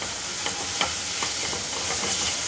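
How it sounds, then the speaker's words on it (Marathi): Garlic sautéing in a pan for mushroom broccoli soup gives a steady close sizzle, with several soft stirring scrapes spaced about every half second and no talking. "आपण लसूण टाकूयात हे पहा तो सुद्धा असा छानपैकी परतून घेऊयात"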